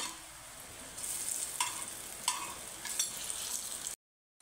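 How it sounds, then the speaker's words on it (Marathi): Colocasia (alu) vadi frying in a pan, a steady soft sizzle with a few brief louder spatters and bursts, close and quiet, ending abruptly in silence. "एक अर्धा मिनिट आपण खालची बाजू तळून घ्यायची आणि नंतर अशी पलटी करून घ्यायची।"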